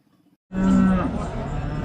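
A six-month-old Holstein Friesian calf at a cattle market in Akluj gives a loud, close moo that begins abruptly after a brief silence and then trails off into a rough, fading call.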